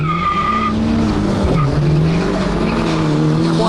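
A car drag-races against a quick 2-litre turbo Gemini, with loud tyre squeal and engine scream rising and falling as the cars launch close by.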